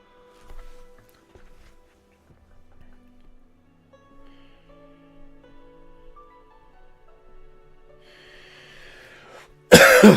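A single loud, harsh cough bursts out at the very end after a stretch of quiet, low background sounds.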